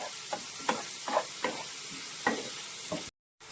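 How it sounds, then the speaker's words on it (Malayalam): Tomatoes and curry leaves fry in a pan for a spicy meat curry: a continuous hiss of sizzling oil punctuated by repeated rhythmic spatula strokes, ending in a sudden brief silence. "നന്നായിട്ട് ഇതിനെ വഴറ്റിയെടുക്കണം"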